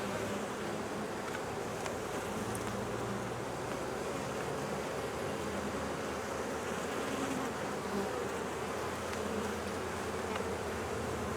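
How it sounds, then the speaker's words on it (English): Steady, dense buzzing of many honey bees close by around a hive, continuous throughout with no voices. "There's plenty of bees"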